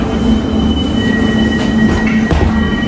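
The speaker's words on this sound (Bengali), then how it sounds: "চালকবিহীন মেট্রো, কোনো ড্রাইভার নাই, অটোমেটিক চলবে এটা" A driverless automatic metro train runs with a steady, loud rumble, a sustained wheel and motor whine, and faint rail squeals. The sound is continuous and close, heard from on board, with no voices.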